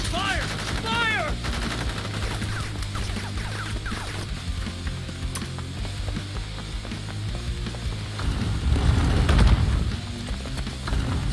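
Gunfire in the game Crisis Core Final Fantasy VII Reunion, played on hard mode: continuous rapid shots and impacts under dense game music and effects, with a louder surge of blasts near the end.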